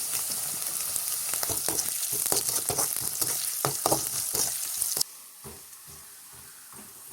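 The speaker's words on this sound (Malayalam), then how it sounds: "അപ്പോൾ ഇഞ്ചി ഇടുക അങ്ങനെ മൂത്തുകൊണ്ടിരിക്കുകയാണ്." Chopped ginger fries in hot sesame oil with golden garlic for a Kerala-style fish pickle, a loud, steady sizzle with stirring scrapes that drops to a quieter crackle near the end.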